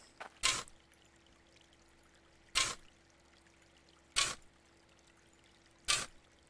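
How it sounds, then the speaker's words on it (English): Dirt tipped out of a bucket in the mining game Hydroneer: four separate short, soft pouring whooshes spaced a couple of seconds apart over a quiet low hum, with no talking. "you pour the bucket out"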